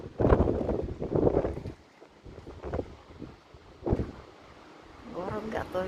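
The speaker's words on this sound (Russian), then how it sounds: "Очень сильный ветер" Very strong autumn wind with rain outside in Kursk hits the microphone in loud, irregular gusts and buffets, easing between bursts, with a brief voice near the end.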